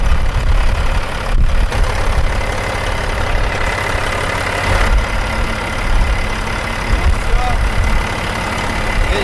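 A truck diesel engine idles steadily up close after an oil flush, with a loud, continuous low rumble and mechanical clatter holding an even level throughout.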